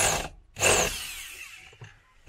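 Short bursts of a power drill whirring into a car's metal panel, two main runs separated by pauses, ending with a sharp clunk.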